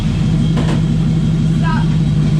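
A crawler vehicle's engine rumbles loudly and steadily as it drives forward up into a cargo trailer, close up, with a brief voice partway through.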